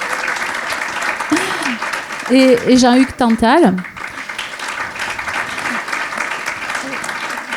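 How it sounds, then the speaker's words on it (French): Conference audience applauding the organisers, a steady, loud crowd clapping that runs throughout, with someone speaking over it in the middle. "on l'applaudit fort"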